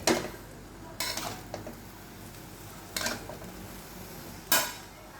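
Stirring vegetables with ghee, cashews, raisins, ground and whole garam masala and a little chopped ginger in a pot: a few separate scraping clinks of a spoon against metal, spaced about every one to two seconds over a quiet background.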